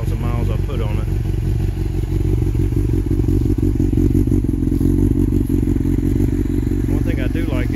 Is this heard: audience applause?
no